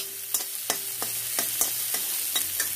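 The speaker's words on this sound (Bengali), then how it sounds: "এই যে দেখো সবজিগুলোকে একটু ভেজে নিচ্ছি আমি" Vegetables stir-fried in a pan before flattened rice is added, a steady sizzle punctuated by regular spatula scrapes and taps against the pan, with no talking.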